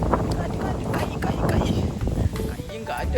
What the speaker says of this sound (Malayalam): കാറ്റ് കാറ്റ് കാറ്റ്